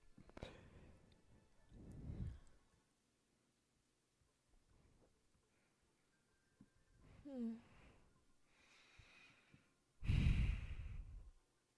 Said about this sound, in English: I'm breathing in the microphone